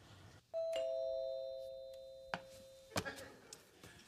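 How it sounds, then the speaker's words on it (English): A doorbell chimes once with a bright sustained ding-dong in a quiet house, followed by a few sharp knocks or clunks as the tone fades. "ringing the bell"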